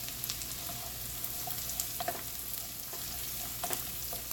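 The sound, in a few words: stirring and sautéing in a pan for shrimp scampi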